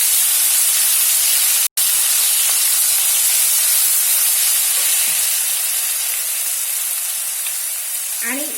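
Ginger garlic paste sautés with stone flower and bay leaf in a pan, giving a loud, continuous hiss that eases slightly toward the end, with a brief cutoff early on and faint clinks.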